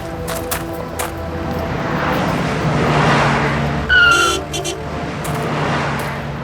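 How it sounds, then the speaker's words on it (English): A car's tires skid and squeal as it nearly strikes a pedestrian crossing the road, a short sharp screech rising over steady traffic rumble midway through. "That car almost hit that pedestrian crossing the road."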